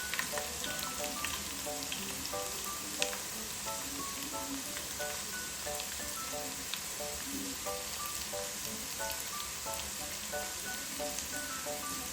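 Onions frying in a pan until golden brown, a steady crackling sizzle with scattered pops and bubbling, fairly quiet and close, with no talking.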